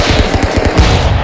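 Rapid automatic Uzi fire in a shooting video game, a dense loud burst of repeated shots with a steady rattling rhythm throughout, close and continuous.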